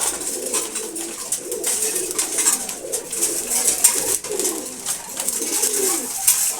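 Pigeons, including grizzle khaki, maxi racer, racer and giribaz breeds at morning feeding, coo in soft, overlapping, continuous murmurs close by, with light flutters and rustles throughout.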